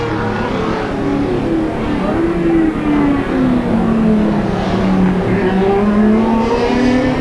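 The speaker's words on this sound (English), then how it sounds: "Here's Brent Jones just approaching the bridge now" A race car at a 1986 circuit race roars as it approaches a bridge, its engine note loud and sustained with a slowly falling pitch as it draws near and passes.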